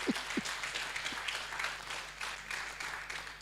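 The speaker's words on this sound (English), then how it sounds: "Please, a very big clap" Audience clapping at a survey report dissemination event, a thin, fairly quiet patter of hands from a modest crowd, with a couple of low thumps near the start.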